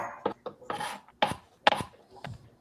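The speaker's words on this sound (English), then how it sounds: "I'm just chopping up some cashews." Cashews chopped with a knife on a giant cutting board: a run of sharp, uneven knocking and crunching strikes, close and fairly loud, with short gaps between them and no talking.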